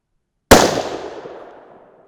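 A 6 PPC rifle loaded with 26.4 grains of N133 fires a single loud, close shot after silence, a hard crack followed by a long rolling decay lasting more than a second outdoors, with no voices.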